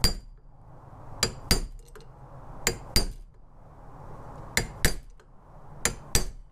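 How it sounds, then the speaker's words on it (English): A heavy duty punch is hammered against a control arm bushing, ringing out as sharp metallic strikes in loose pairs, about ten blows in all, close and loud over a low background hum. "if you use a tool like this, like a big long punch, a heavy duty punch, you can get in there a little easier than the chisel"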